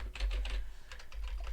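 Rapid typing on a computer keyboard, a steady flurry of light clicking keystrokes close to the microphone with no voices.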